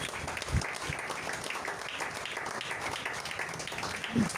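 A church congregation claps and cheers in praise of God, a steady wash of applause filling the room with a couple of louder low thumps near the start and end.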